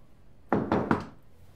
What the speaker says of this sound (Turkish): Birazdan kapıyı çalar.